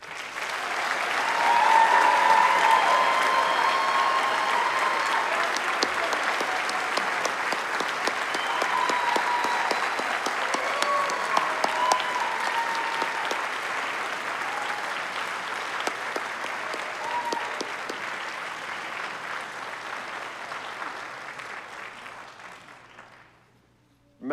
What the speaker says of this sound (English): accepting the applause for the class of 2022